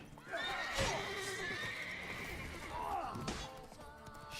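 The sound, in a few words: horse neighing, Geralt's horse Roach in The Witcher 3 video game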